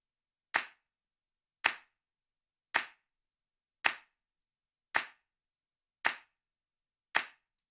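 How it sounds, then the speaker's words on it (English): Seven evenly spaced single claps with reverb left unequalized, each a sharp crack followed by a short decaying tail, set against silence. "So this is the reverb without the EQ."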